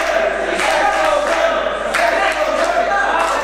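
A wrestling crowd roars and cheers for the wrestler Xplosion in a continuous, loud wall of voices. Scattered shouts rise out of the crowd across the clip.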